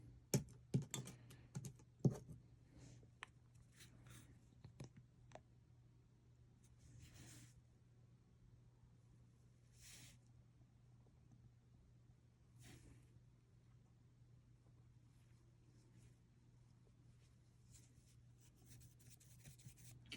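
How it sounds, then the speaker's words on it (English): A small dip-powder nail brush is wiped off, producing soft, quiet brushing and rubbing strokes in scattered short bursts, with some quick taps early on, over a faint steady hum in a quiet room. "I'm just wiping the brush off because there were foils in there."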